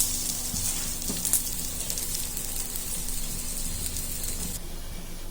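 Chickpea dosa sizzling steadily on a hot pan just after being flipped, a continuous bright frying hiss with a faint hum beneath, heard alone without talk before it suddenly thins out near the end.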